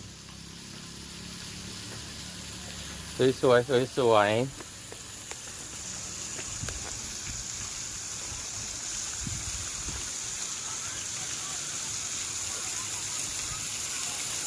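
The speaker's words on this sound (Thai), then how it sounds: "นี่เพิ่นเปิดน้ำพุนะครับ จะเป็นน้ำตกลงมานี่ น้ำพุนะครับ จากปากพญานาคเนาะนี่นะครับ" Fountain water pouring from a naga's mouth at a Thai temple by the Mekong, a steady splashing gush heard under a brief spoken remark and someone talking.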